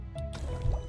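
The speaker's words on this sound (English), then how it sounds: "Whoa, look at that! Water bomb." A water bomb bursts in the video game Arcadia Fallen, a short wet splash and liquid squish with a deep low thump, heard close and fairly loud.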